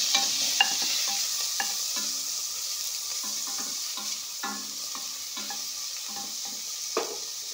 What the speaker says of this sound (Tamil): அதை போட்டு ஒரு ஒரு நிமிஷம் நல்லா வதக்கி கொடுங்க